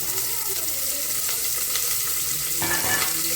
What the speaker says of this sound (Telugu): ఇలా ఫ్రై చేసుకోవాలన్నమాట